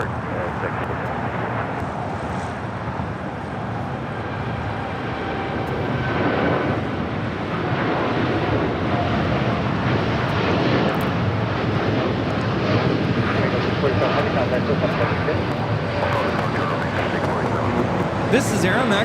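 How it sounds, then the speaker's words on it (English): An Aeromexico Boeing 787-8 Dreamliner takes off at LAX with a steady, broad jet roar that swells partway through and holds loud to the end, wind buffeting the microphone. "This is Aeromexico 647 taking off to Mexico City on a 787-8 Dreamliner"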